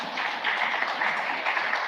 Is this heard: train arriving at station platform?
no